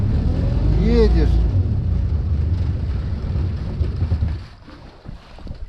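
Japanese outboard motor on a small boat at full throttle, a loud low rumbling drone with wind buffeting the microphone, fading and dropping away toward the end.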